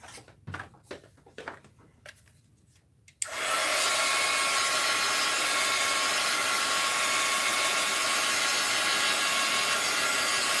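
A hair dryer used to dry paint on a snowglobe craft comes on after a few faint handling knocks. It then blows steadily, a loud, close whoosh that holds to the end.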